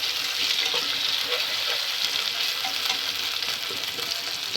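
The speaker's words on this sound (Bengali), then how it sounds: "এখন একটু নেড়ে দিব।" Chicken frying in a pan with ginger-garlic paste, turmeric and chili powder, stirred steadily; a dense, continuous sizzle with faint scraping taps, close and fairly loud, no talking.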